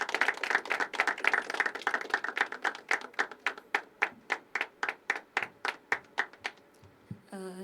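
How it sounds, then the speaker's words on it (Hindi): An audience at a poetry open mic at The Habitat claps for the next poet, a dense burst of applause that thins into slower, separate hand claps before dying away. "एक बार जोरदार तालियां भक्ति के लिए।"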